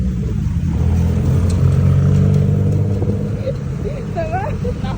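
A tuk-tuk's small engine rumbles steadily and revs during a ride through Bangkok, loud and close with road noise throughout, while voices chatter over it.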